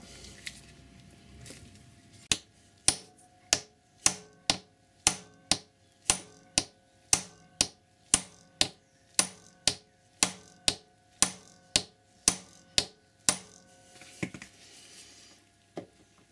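A solid-rivet motorcycle chain on a Honda CBR1000RR is peened with a chain rivet tool, about twenty sharp metallic strikes in a steady, even rhythm, close and distinct, after a quiet start.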